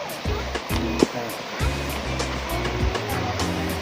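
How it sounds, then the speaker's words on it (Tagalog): River water flows steadily on a mountain crossing, a close, continuous rushing wash with low rumbling pulses underneath and no voices. "Yan, nasa ilog na tayo."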